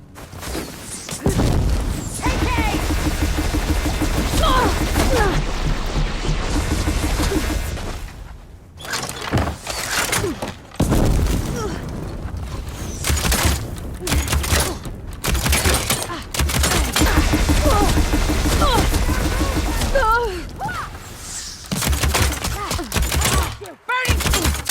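A barrage of attacks in the video game Horizon Forbidden West booms and crackles in loud, dense bursts over about twenty-five seconds, with brief gaps and some voices shouting amid the chaos.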